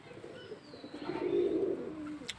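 A pigeon perched up high gives a soft, low cooing call that swells through the middle and fades, close by over faint background noise.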